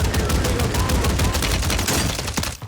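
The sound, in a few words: mortar and air strikes in video game Warzone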